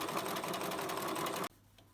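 A sewing machine stitches fabric in a straight line with a fast, even, rattling hum, running close and loud for about a second and a half before stopping abruptly.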